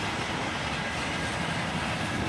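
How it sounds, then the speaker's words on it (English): A freight auto rack train led by a single ES40 DC locomotive rolls past, giving off a continuous, even rumble and rush of wheels and cars at moderate loudness with no voices. "Another auto rack train led by a single ES40 DC"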